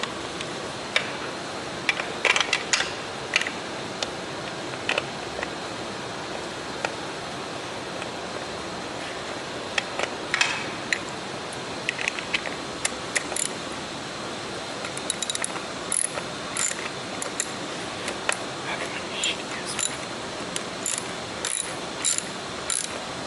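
A bolt tightened on an Evinrude outboard pull-start recoil assembly with a ratchet, heard as repeated close clicking bursts of the pawl over a steady background hiss.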